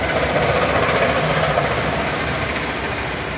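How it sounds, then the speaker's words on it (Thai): A new 50 hp TT2.50 tractor engine running close by, a loud steady rapid diesel rattle and rumble throughout. "เดี๋ยวผมจะสตาร์ทเครื่องลองฟังเสียงดูนะครับ"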